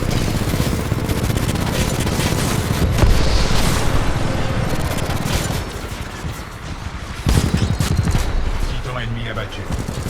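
Titanfall 2 Titan salvo core fires in dense bursts, with rapid gunfire and booming explosions that ease briefly and then return, under a voice speaking in French.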